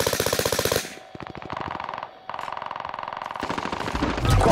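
Automatic gunfire in the video game Call of Duty Warzone: loud, rapid bursts of shots broken by short pauses, with sustained firing toward the end.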